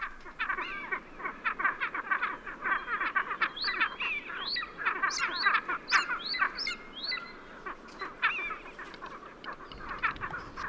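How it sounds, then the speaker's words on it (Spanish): A dense, continuous chorus of harsh, yelping calls from large eagles overlapping rapidly, with sharper high cries rising above the clamor throughout. "Y ladran las grandes águilas."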